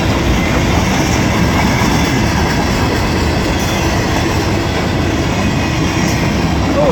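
A CSX freight train rolls past carrying Chessie boxcars, a steady loud roar of wheels and rumbling cars filling the whole stretch near Lake Erie without letup.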